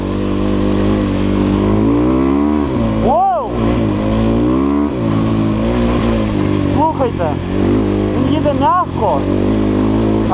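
Kovi Lite 300 KT enduro motorcycle engine accelerating smoothly on sand, a steady loud drone with rising revs and pitch sweeps, a rider's voice talking over it throughout.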